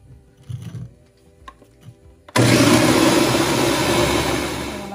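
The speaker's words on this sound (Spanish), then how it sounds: "Ahora vamos a licuar" After a couple of seconds of quiet kitchen handling, a blender roars to life, loud and steady as it purees hydrated chiles with garlic, cumin and salt, and it keeps running to the end.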